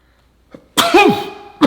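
A single sharp sneeze bursts out after a quick inhaled breath, loud and close, followed by a brief trailing sound.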